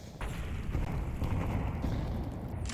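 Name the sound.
grenade explosions in Counter-Strike video game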